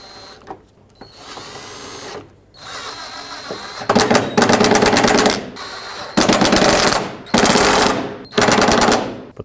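Impact driver or power drill running in liftgate latch bolts on a 2001-07 Toyota Sequoia, several loud close rattling bursts of a second or so each, separated by short pauses.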